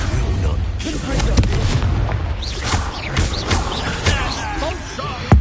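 Spell blasts in the video game Hogwarts Legacy, a dense run of booming impacts and sharp cracks over constant combat noise, with voices shouting spells and taunts mixed in.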